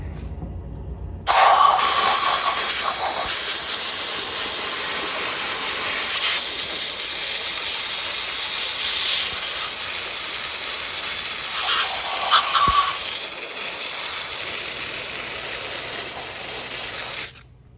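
A steam cleaner blasts steam onto a degreased car engine, giving a loud, steady hiss that starts abruptly and runs for about sixteen seconds before cutting off, with slight changes as the nozzle moves.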